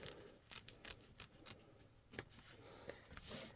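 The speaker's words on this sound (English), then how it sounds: "Go ahead and trim on both sides of the hoop close up to that stitch line." Scissors trimming fabric around an embroidery hoop near a stitch line, a series of quiet, close snips and crisp cuts at an irregular pace.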